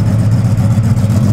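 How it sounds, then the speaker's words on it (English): A vintage 12-cylinder car at a concours d'elegance runs steadily with a deep, loud, close engine rumble and even pulsing throughout, with no voices over it. "listen to that 12-cylinder engine"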